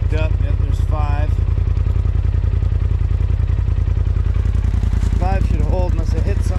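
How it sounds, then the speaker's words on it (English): Air compressor inflating a tire in a snowy outdoor setting, a loud rapid pulsing chug running steadily throughout, close by, with someone talking over it. "I got the compressor hooked up."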